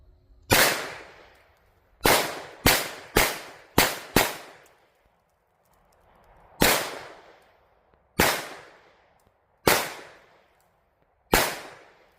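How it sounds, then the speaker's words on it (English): 9mm pistol fire from a Cerakoted AP5, eleven sharp loud shots, a single shot, then a quick run of five, then spaced single shots, each with a ringing decay outdoors. "This magazine is loaded with just random grab handfuls of 9mm shells."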